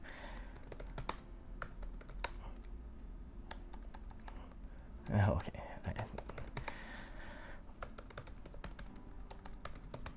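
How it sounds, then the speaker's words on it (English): Steady computer keyboard typing runs the whole way, close and busy with dense clicking keystrokes, briefly interrupted by a short spoken remark midway. "I feel like I'm getting worse at typing."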